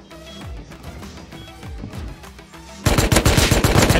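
Automatic rifle fire in the survival video game Rust, with short bursts of shots early on and then a much louder, sustained volley of rapid gunfire at close range, with no talk.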